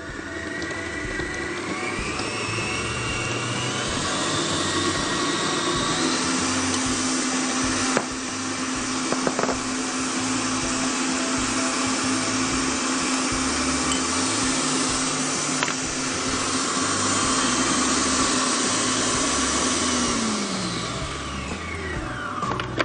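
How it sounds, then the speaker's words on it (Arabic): An electric hand mixer beats butter, sugar and vanilla together for quick biscuit dough, a steady loud motor whir running almost continuously and alone, shifting in pitch as it works through the creamy mixture before winding down at the end. "اشغل بقى المضرب بتاعي يقلب دول مع بعض"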